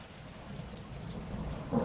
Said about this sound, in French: au plus tu entendais le bruit de la pluie